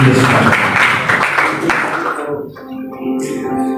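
A congregation at a prayer and fasting service on Gunung Salak, Bogor, breaks into dense applause that holds for about two seconds and then fades out, leaving sustained musical tones underneath.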